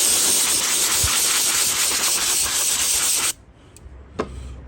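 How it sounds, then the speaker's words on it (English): Compressed gas duster spraying a steady loud hiss of air onto the air filter of a petrol lawnmower for about three seconds, then cutting off abruptly, followed by a couple of faint handling clicks. "these sort of cans, compressed gas duster, these are pretty good"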